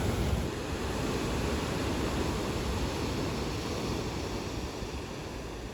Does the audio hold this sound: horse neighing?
no